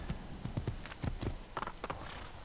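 Horse hooves clip-clop at a steady walking rhythm in Assassin's Creed, faint and fairly distant, with a soft background hiss and no voices.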